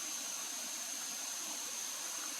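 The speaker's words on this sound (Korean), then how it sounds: "물소리가 정겹죠? 살살살 짤짤짤 샤샤." A stream flows gently in a steady, soft, unbroken wash of water sound at moderate distance, with nothing else standing out.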